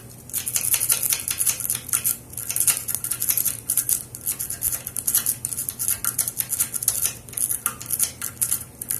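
Rapid metallic raking of pick against the pins of a large Brinks padlock clamped in a vise, a dense, fast chattering of tiny clicks and scrapes running nonstop at close range, without talk.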